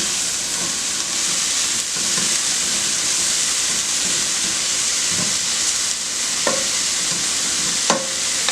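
Meatballs spread out in a pan, heating through with a steady, close sizzle and frying hiss, a few scraping stirs and clinks breaking through the continuous crackle.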